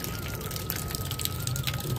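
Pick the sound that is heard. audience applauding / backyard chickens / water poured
water poured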